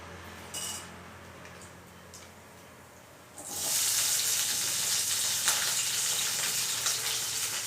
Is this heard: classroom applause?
no